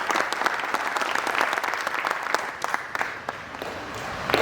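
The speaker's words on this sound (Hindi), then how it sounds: "तालियां होनी चाहिए।" Enthusiastic applause from a theatre audience at a drama festival, called for to welcome the mayor; dense, steady clapping with sharp individual claps throughout, moderately loud and continuous.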